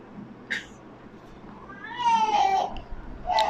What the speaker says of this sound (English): My brother keeps crying or something.